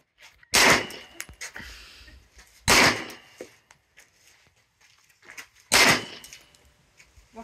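Three loud, sharp gunshots fired at a target outdoors, spaced about two to three seconds apart, each with a short echoing tail and faint sounds in between.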